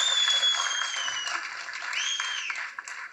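Audience applause at the Hit List film audio launch, a steady wash of clapping from a crowd with faint overlapping voices, gradually easing over a few seconds.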